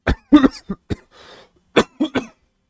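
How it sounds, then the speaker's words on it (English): A person coughs in several sharp, close bursts with brief pauses and a short breathy rasp between them, alone with no talking. "I have a poisonous little cough from time to time"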